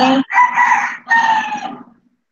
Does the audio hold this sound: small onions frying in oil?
no